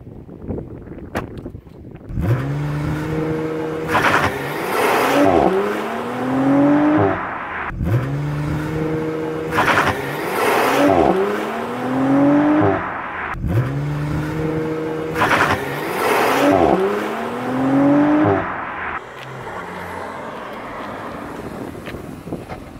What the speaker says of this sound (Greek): Και θα κάνουμε τώρα ένα Launch Control για να δείτε